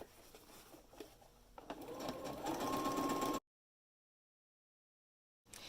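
A sewing machine stitches steadily while understitching a bias facing onto a garment neckline. The whirring builds and holds for about three seconds, then stops dead into silence before a brief resumption at the end.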